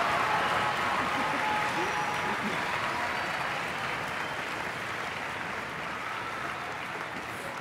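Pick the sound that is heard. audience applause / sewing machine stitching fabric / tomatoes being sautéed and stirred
audience applause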